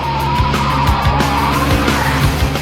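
BMW M5 saloon with traction control off, tyres skidding and squealing as the tail slides out, a loud continuous screech over the engine's steady roar with repeated rising pulses.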